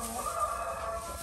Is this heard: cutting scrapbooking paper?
no